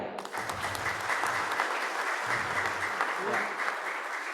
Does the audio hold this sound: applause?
yes